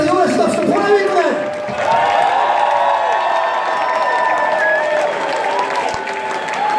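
Applause and cheering from a concert crowd at a show, loud and sustained throughout, with a voice carrying over the clapping.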